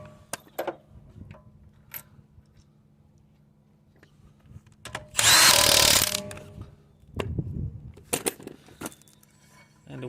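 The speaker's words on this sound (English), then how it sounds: "And we're just putting our bolts back in." A power tool tightens car wheel bolts during an electric parking brake caliper pad service, a loud buzzing burst of about a second among scattered metallic clinks and handling knocks.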